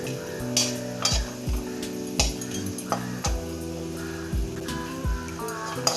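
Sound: dry roasting idli podi ingredients in pan on medium flame

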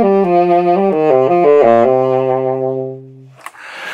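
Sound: lighter tenor saxophone tone

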